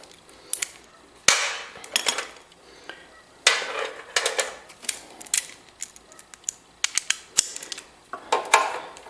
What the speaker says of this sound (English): Tighten up the back bolt that holds the tank on